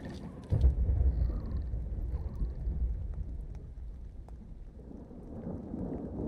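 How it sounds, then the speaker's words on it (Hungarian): A thunderstorm rolls through in the video game The Cycle: Frontier, with a loud low rumble of thunder early on fading into a steady hiss of rain and distant grumbling. "Kíváncsi vagyok, hogy milyen ez a vihar."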